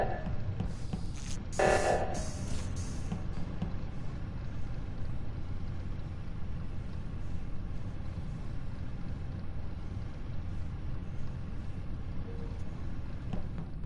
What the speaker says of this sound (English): my phone ringtone was from Chicago PD.